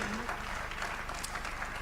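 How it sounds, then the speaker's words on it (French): Audience applause at the close of a morning conference session, a steady mid-level patter of clapping with some murmuring voices mixed in, lasting throughout without a break. "On l'applaudit."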